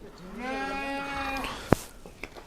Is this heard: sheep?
yes